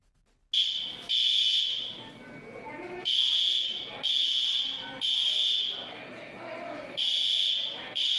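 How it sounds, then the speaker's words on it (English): A fire alarm blares in loud, steady electronic pulses, about six long blasts with brief gaps, while people talk underneath. "He pulled the fire alarm."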